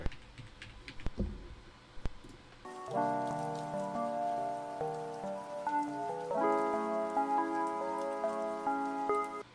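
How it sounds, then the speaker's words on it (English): Pattering rain and droplet ticks are mixed into a mellow song, the rain running alone at first, then continuing under sustained chords that enter and later thicken. "so the rain doesn't override the song"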